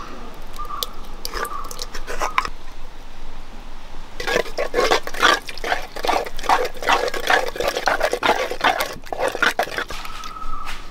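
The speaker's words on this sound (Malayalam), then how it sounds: "വെള്ളം ഒഴിച്ചു കൊടുക്കുക." Water is poured into rava dosa batter made with semolina and curd, giving a wet, splashy stirring texture that runs for several seconds, with a quieter start and end.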